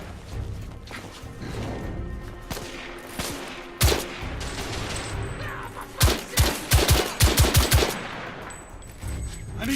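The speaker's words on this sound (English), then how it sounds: "They're shooting at me!" Gunfire in The Order: 1886 during a street battle, with scattered loud shots followed by a rapid burst of close volleys amid background clatter.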